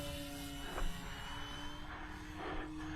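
An RC model airplane flown directly from a FlySky receiver to its servos with no stabilizer, at an RC club field, gives a steady, fairly faint motor buzz with a sustained drone that swells slightly, heard alone without talk.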